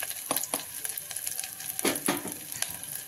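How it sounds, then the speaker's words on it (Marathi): Masala and chilli powder fry in tempering oil with coriander for a kohala vadi curry, a soft continuous sizzle punctuated by a handful of scraping spatula strokes close to the pan. "छान मसाला आपला तळला गेलेला आहे।"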